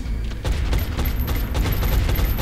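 Rapid gunfire from the XCOM video game as squad troops shoot at chrysalids during an alien base assault, a dense fusillade of overlapping loud shots with no pauses for the full stretch.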